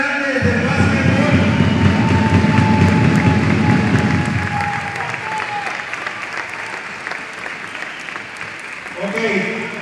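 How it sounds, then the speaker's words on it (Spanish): Crowd applause at the grand opening of the Leones Guadalajara basketball team, greeting three basketball greats; loud sustained clapping with cheering, under a voice on a PA, that gradually fades. "Un aplauso para estos tres grandes de básquetbol."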